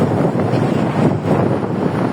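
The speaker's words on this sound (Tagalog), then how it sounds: "Yan na ang hangin na inaantay nyo." Loud, steady wind rushing and buffeting outdoors in Central District, Hong Kong, a dense roar with no other distinct sounds.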